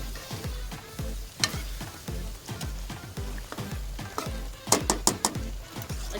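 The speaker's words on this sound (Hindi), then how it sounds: "अच्छे तरीके से इसको हमने भूनना है।" Spices, tomato, yogurt and onion fry and sizzle in a pan while a spoon stirs them in repeated strokes, with scraping and a few sharp clinks of the utensil against the pan, close up and without talk.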